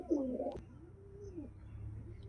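Pigeons, kept for flying sport, give a close, soft cooing call at the start, followed by quieter murmuring coos over faint background noise.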